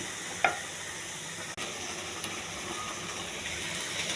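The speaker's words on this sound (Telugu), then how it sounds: "ఉల్లిపాయలు వేసుకుని వేగచ్చాలి. ఉల్లిపాయ, టమాటా వేగచ్చాలండి." Onions and tomatoes frying in a pan for a bhindi (okra) dish, giving a steady, even sizzling hiss that holds throughout, with one brief utensil clink near the start, close and moderately quiet, with no talking.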